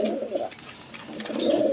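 Pigeons coo in soft, throaty bursts at the start and again near the end. The birds are quality breeding stock with blood-red eyes, kept at a market stall. A faint voice murmurs in the background.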